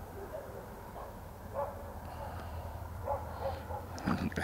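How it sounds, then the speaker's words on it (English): A dog barks outdoors at night a few times, faint and somewhat distant over a low background hum, with the barks scattered irregularly rather than in a steady run. "That's my dog barking now."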